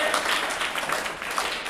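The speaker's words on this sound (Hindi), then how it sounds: "जोरदार ताली बजा दीजिए।" A crowd gives a short burst of steady, dense applause at a general knowledge quiz session, moderately loud and heard alone without talking.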